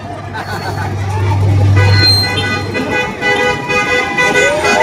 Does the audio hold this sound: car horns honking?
yes